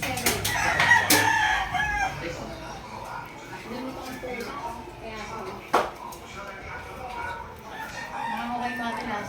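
Fighting roosters crow from a rooftop chicken coop, several loud calls early on over background chatter and clucking, with people talking throughout.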